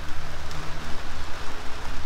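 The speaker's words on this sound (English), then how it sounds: "it's a beautiful day in Havasu, but it's raining" Steady rain falls outdoors on a gray day in Lake Havasu, a continuous close hiss of drops hitting surfaces with a low rumble underneath and no pauses.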